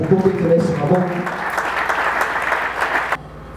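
A congregation at a worship service breaks into applause, a dense sustained clapping that fills the space, briefly layered over a voice at the start before cutting off abruptly near the end.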